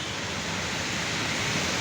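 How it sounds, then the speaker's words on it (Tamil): Heavy night rain pours near MEI on Tumkur Road, a steady, dense hiss that stays loud and unbroken throughout, with no voices. "சரியான மழை பெய்யுதுங்க"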